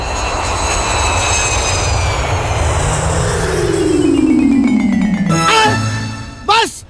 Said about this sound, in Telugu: బాస్, ఆ విమానం చూడండి బాస్